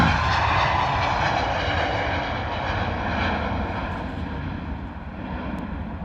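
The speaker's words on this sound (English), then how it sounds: "Landing gear went up pretty early there on that Ryanair 737" A Ryanair Boeing 737 takes off at London Stansted Airport, its jet engines giving a loud, steady roar that slowly fades as the plane climbs away.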